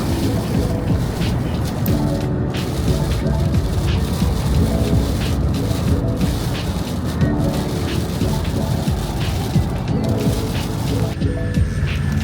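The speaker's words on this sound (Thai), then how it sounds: "เจอฝนตกครับ แต่ผมว่าดีนะขับรถฝนตกอ่ะ" Rain falls steadily on a moving car, making a dense continuous patter and wash of noise over the low rumble of driving, loud and close throughout.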